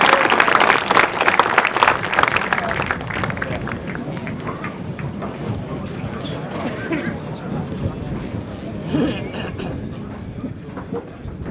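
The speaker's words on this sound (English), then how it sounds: "Ladies and gentlemen, another round of applause, please, for Veterans Memorial Charger Youth Leadership." An outdoor crowd applauds a youth leadership group at a school groundbreaking ceremony in Brownsville, Texas, with a dense burst of clapping that fades to a softer, steady patter.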